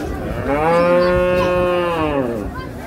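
A cow moos once at the Hozrotpur cattle market, a long, loud, close bellow lasting nearly three seconds that slides slightly in pitch before fading, heard alone with little background.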